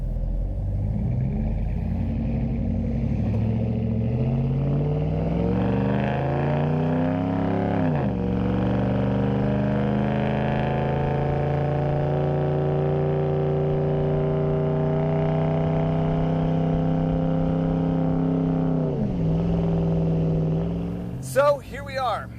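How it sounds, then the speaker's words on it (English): Dodge Ram pickup truck fitted with upgraded PowerStop brakes on a test drive up a canyon: a loud, steady engine drone heard from inside, rising through gears with shifts around eight and nineteen seconds, then a brief rattle at the end. "the truck was ready for a test drive."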